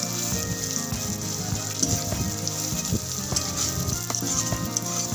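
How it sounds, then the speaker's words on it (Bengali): Onions frying in a pan for a ridge gourd mash, with a steady close sizzle and crackle and occasional scraping as a spatula stirs them throughout. "অনবরত নেড়ে ছেড়ে আমি কিন্তু পেঁয়াজগুলো ভেজে নিচ্ছি"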